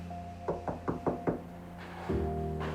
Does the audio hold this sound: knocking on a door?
yes